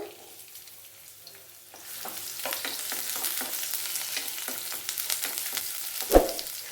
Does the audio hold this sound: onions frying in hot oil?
yes